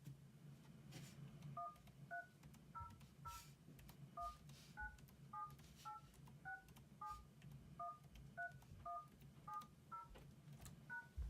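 Dual-tone keypad beeps from an Avaya IX collaboration device entering a meeting ID, about a dozen short, evenly spaced tones in an irregular rhythm over a faint steady background hum.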